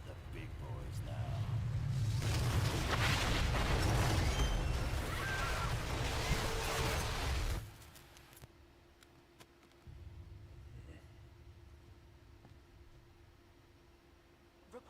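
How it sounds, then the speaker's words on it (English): A massive explosion in the Marvel Ultimate Alliance 2 video game roars as a loud, broad blast of noise for several seconds before cutting off abruptly, leaving a faint hum and quieter game sounds afterward. "indicate a massive explosion in a residential neighborhood"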